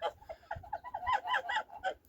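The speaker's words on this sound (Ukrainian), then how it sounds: "кури з хліва, їдять кашу" Hens out of the barn cluck and chatter in quick short bursts while eating porridge, a close, fairly quiet run of calls with a faint voice underneath.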